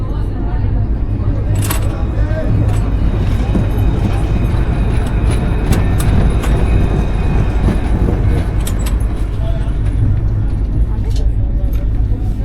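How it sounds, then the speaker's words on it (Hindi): Train arriving at a station in Punjab, a loud continuous rumble with rail clatter and scattered metallic clicks throughout, people talking in the background. "ट्रेन आ चुकी है।"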